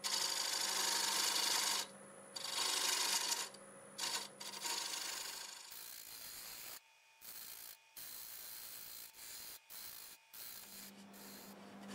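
A small carbide tool shapes a segmented wooden ripple bowl on a lathe turning about 760 RPM, giving close scraping and rasping bursts that stop and start with short gaps.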